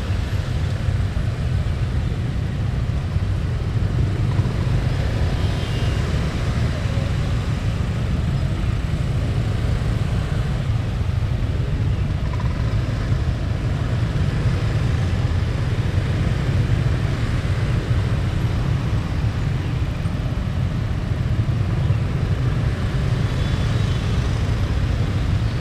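Traffic jam at an entrance near Monas, Jakarta, during a Lebaran Betawi event: a steady, close rumble of idling and crawling engines with a low droning hum throughout, no clear voices.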